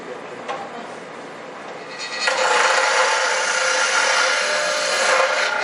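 A tool cutting threads into a spinning piece of dogwood on a lathe gives a steady, close, raspy scraping hiss that starts softly and grows louder and fuller after a couple of seconds.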